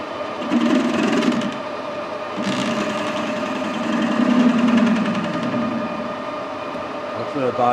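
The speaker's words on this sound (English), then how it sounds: "I'm going to machine the end of the bar and make sure I've got no pip left" A lathe machines the end of a stainless steel bar, giving a steady motor hum and a mechanical whir with a rougher cutting rasp that swells and fades, close by and continuous.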